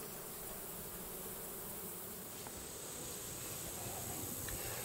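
Many bees buzz around a hive in a dense, steady drone that holds at an even level throughout.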